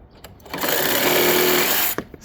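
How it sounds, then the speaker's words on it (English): Electric planer running through wooden posts for a two-level back porch on an 1892 townhouse, a steady loud whining buzz for about a second and a half after a short start, cutting off abruptly. "we'll hit these with the planer and then set them into place"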